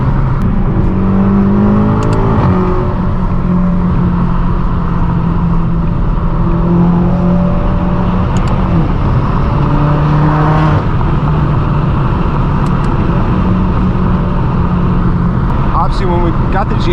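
A BMW M8 Competition V8 producing about 800 hp drones loudly from inside the cabin, its engine tone rising and falling through gear changes under a continuous road roar. A person talks over the engine throughout.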